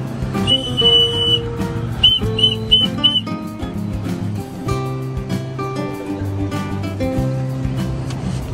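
Sharp, shrill whistle blasts calling racing pigeons repeat in short bursts, loud and close, over an outdoor background with faint bird chirps.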